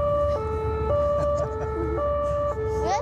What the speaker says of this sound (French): Allez, on remet la sirène.